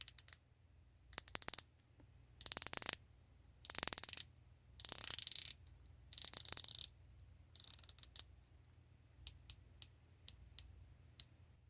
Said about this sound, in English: nice clicky action on this bezel